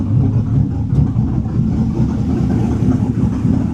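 A Bentley engine, running again after sitting for years as a non-runner, rumbles loudly up close with uneven pulses as the throttle is blipped, rising and falling without settling into a smooth idle.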